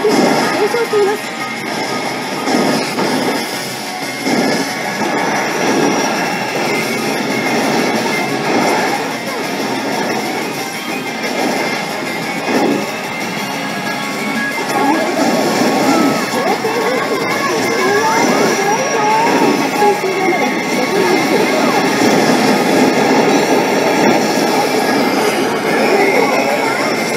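A train in the video game Border Break runs continuously with a broad steady rumble and hiss, joined by game sounds and occasional speech across the stretch.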